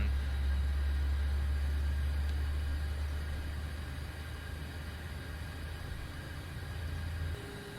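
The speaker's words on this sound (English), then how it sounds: "let's make it a little bit less noisy inside the flight deck" Steady flight deck noise inside an iFly 737 Max 8 in the P3D v5.4 simulator game, a loud constant low rumble with hiss that holds evenly, then drops in level near the end as the cabin noise is turned down.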